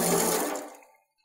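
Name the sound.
water flowing from a garden hose tap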